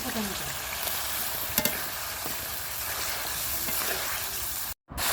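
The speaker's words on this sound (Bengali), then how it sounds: "তারপরে মাছগুলো দিয়ে আমি মাছগুলো কষিয়ে নিচ্ছি" Pieces of fish cooked down in a thick spice paste give a steady, close frying sizzle with occasional stirring scrapes and small clinks, running without a break and without voices.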